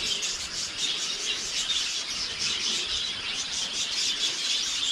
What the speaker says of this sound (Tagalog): Yung mga ibon natin tuwing umaga, sila po yung gumising sa amin. Kapakaingay po nila.